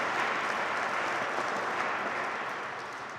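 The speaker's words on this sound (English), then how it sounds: "so we'll clap even though he's not here." Steady, dense clapping comes from an audience at a military retirement ceremony for a major. The applause is full and continuous and tapers slightly at the end.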